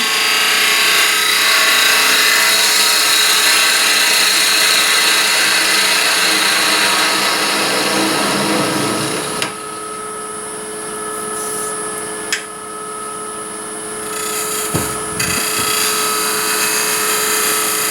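A woodturning gouge cuts spinning wood on a lathe with its bevel rubbing, shaping a small lidded ring box. A loud, continuous scraping whir runs over the motor's hum, then eases into quieter, lighter cuts with a few sharp ticks.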